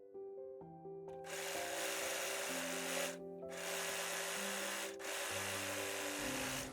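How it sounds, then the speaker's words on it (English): An overlocker sewing the upper seam allowance of dress fabric, a loud steady mechanical whir with short breaks, close and alone without talk. "Overlock the upper seam allowance."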